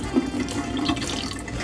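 Water pours steadily through a microwave multipot lid used as a strainer, draining macaroni in a kitchen, a continuous close splashing rush with no pauses.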